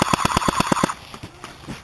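Airsoft gun fires a rapid burst of about eight close, loud shots during a game, followed by fainter scattered pops and outdoor noise.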